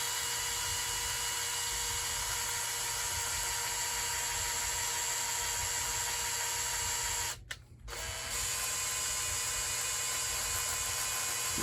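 A valve on a Kohler K321 engine is lapped with coarse grit compound, producing a steady, close mechanical whirring grind that breaks off briefly near the end before resuming.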